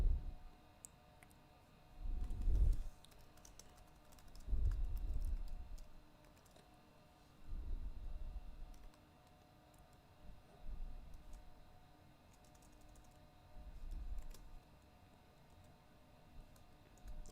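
Keys tapped on a computer keyboard to enter login credentials, soft intermittent clicks in short bursts over a faint steady hum, with a few low thumps between them.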